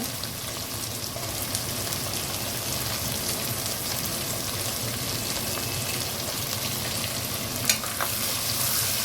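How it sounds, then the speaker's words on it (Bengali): Onions fry in a pan with a loud, steady, close sizzle that holds without a break, broken only by a faint tap near the end. "ভালো করে পেঁয়াজটা আগে ভাজি"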